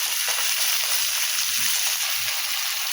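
A steady, dense sizzle of frying fills the pan after ripe red tomato goes in while cooking a Konkani-style green pea usal, with faint stirring scrapes underneath and no talking.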